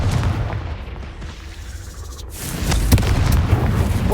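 Confringo blasting spell in Hogwarts Legacy: a loud booming explosion rumbles throughout, swelling again midway with sharp cracks and a heavy low-end blast, no talking.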